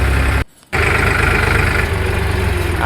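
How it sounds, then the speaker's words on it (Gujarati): Tractor running just ahead on a village road, a loud, close, steady engine drone with a chugging low-end pulse, briefly cut out for a moment before continuing. "આપણે આગળ ટ્રેક્ટર જાય છે"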